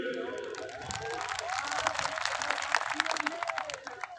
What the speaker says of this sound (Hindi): ताली बजाना छोड़ के